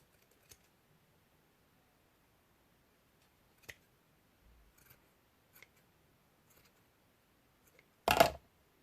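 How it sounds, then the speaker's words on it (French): Scissors cut wool for a small dog figure, giving faint sparse snips spread over several seconds and then one louder, closer crunching cut near the end in otherwise quiet surroundings. "Je coupe."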